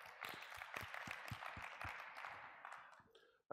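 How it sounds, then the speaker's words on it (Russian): An audience at a tech conference applauds as a speaker is welcomed on stage: a dense, steady patter of many hands clapping, fairly faint and distant, fading out at the end. "Аплодисменты, пожалуйста"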